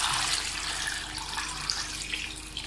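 Water running steadily into a cooking pot holding washed bones, turmeric and salt for a bone curry, a continuous close splashing rush with no pauses.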